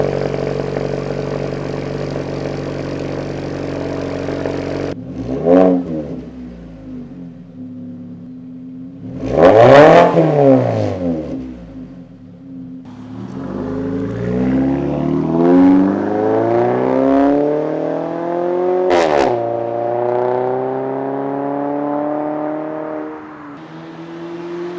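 A Mazda 3 fitted with a Corksport midpipe and Borla axle-back exhaust idles, then blips its engine in sharp revs and a longer rising pull, the exhaust note loud and close with a deep rumble between throttle stabs.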